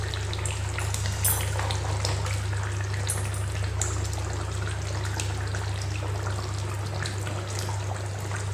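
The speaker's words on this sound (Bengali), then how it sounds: "এবার আমি এর ওপর থেকে খুব সামান্য কাঁচা সর্ষের তেল ছড়িয়ে দেব, তাহলে সর্ষের ঝাঁজটা ভালো আসে।" Raw mustard oil drizzled over mustard hilsa fish cooking in a pan, a steady wet sizzle and bubbling above a constant low hum, with no talking.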